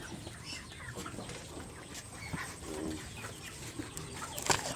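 Farm chickens cluck in a busy rural yard, scattered short calls rising over a steady outdoor background, with faint voices now and then.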